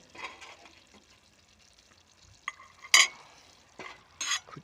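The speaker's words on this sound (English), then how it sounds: "Quick stir." Mushrooms are stirred in a pan for a tuna pasta bake, giving faint scraping and a soft sizzle, with a couple of sharper utensil clinks against the pan.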